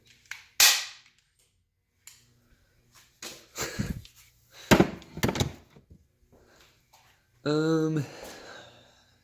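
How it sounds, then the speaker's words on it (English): A secondhand staple gun in a garage fires a few sharp, separate snaps, with quieter clunks and handling noises between them and a short mechanical whine near the end; someone speaks briefly. "So I got a staple gun."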